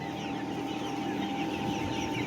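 A dense chorus of chickens clucks continuously inside a poultry shed holding around 1800 birds, over a steady mechanical hum.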